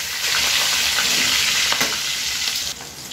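Tuna meat fries in a pan with a loud, close hiss of sizzling oil and light stirring, steady before easing slightly near the end.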